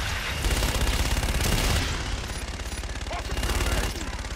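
Gunfire in the video game Call of Duty: Infinite Warfare, a dense, continuous burst of rapid automatic shots and heavy impacts, loud and close throughout with a slight easing in the middle.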